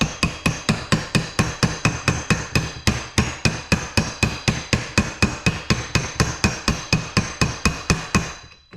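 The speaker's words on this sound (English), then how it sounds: "so I'll just tap it down." A hammer taps a new bearing down onto a pool pump motor shaft through a socket: about thirty sharp, evenly spaced metallic strikes, loud and close, with no voices.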